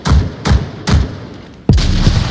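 Gunfire at a shooting range in an online multiplayer video game: four loud, sharp shots spaced about every half second, each trailing a short boom, followed by a sustained blast of continuous fire.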